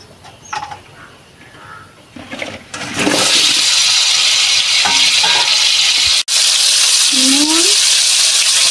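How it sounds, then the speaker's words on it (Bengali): Pointed gourd (potol) frying in hot oil in a wok for a stuffed potol dish, giving a loud, steady close sizzle that starts after a few seconds of quieter kitchen sounds and runs on with one brief break. "তেল দিয়ে দিচ্ছি পটল ভাজার জন্য"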